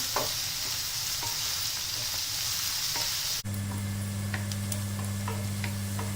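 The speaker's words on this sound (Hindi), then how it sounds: "इसमें 1 चम्मच साबुत जीरा ऐड कर रहे हैं, तो भी प्याज के साथ अच्छे से भून लेंगे।" Whole cumin seeds and onions fry in a pan for mutton liver with a steady close sizzle. Faint stirring taps run through it, and a low hum enters partway. No one speaks.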